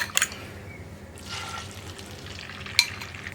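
Beaten egg poured into a little hot oil in a pan for Kerala mutta puttu gives a soft, quiet sizzle and liquid spatter, punctuated by a couple of sharp utensil clinks.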